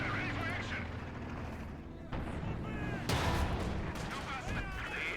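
Heavy battlefield gunfire from Company of Heroes 2, a German Wehrmacht versus Soviet multiplayer match, with overlapping artillery blasts and rifle and machine-gun bursts rumbling continuously, louder crashes near the middle, under a talking voice.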